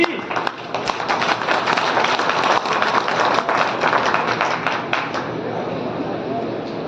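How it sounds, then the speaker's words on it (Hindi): A crowd at a public meeting in Chanderi, Ashoknagar district, claps loudly and continuously, dense rapid hand claps filling the space before easing slightly toward the end. "तालियां बजाते रहो भैया जी।"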